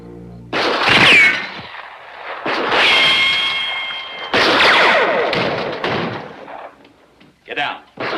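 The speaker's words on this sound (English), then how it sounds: "It was a gunshot." Several loud, sharp gunshots go off in bursts with echoing decay in a 1957 Western film, separated by short pauses, followed by a few fainter, quicker cracks.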